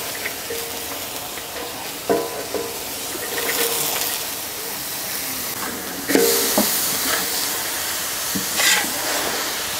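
Finely shredded cabbage stir-fried in a hot wok for bihun goreng, a steady hiss and sizzle with intermittent scraping bursts of the spatula as it is tossed, close and continuous without talk.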